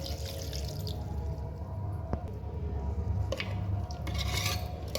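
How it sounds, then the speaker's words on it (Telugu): Water is poured into a pressure cooker of spiced goat leg for sherva, a steady close splashing running through the whole stretch with soft stirring and pot clatter, no talk. "వాటర్ పోసుకోవాలి."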